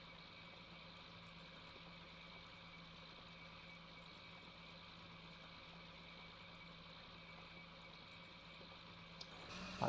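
A Ford F-250 "High Boy" truck engine idling in Farming Simulator 2019, a steady, even drone with a low hum that runs unchanged for about ten seconds, ending with a brief clunk.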